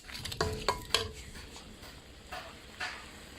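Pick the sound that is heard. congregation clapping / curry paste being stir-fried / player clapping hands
curry paste being stir-fried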